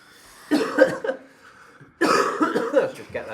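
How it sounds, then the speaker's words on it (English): A man on a podcast clears his throat twice with rough, phlegmy coughing bursts. The bursts are close and fairly loud, with a short silence between them. "Clearing my throat"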